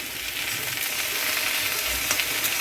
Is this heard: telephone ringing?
no